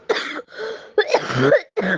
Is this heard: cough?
yes